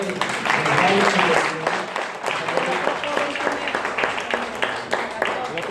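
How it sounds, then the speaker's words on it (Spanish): Church congregation applauding together, a dense steady wash of clapping with voices mixed in throughout. "Den un aplauso a Dios"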